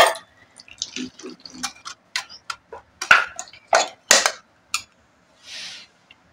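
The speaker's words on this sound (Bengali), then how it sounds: "এবারে এই গ্রেটারটা ধুয়ে একটু জলটা দিয়ে দেব" Water rinsing a kitchen grater: scattered close splashes, drips and clattering taps in irregular bursts, with a brief softer pour near the end.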